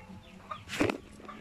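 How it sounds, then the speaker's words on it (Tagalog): Chickens cluck in a rural provincial yard, one short burst of clucking standing out clearly amid a few fainter calls against a quiet background. "may mga manok pa doon"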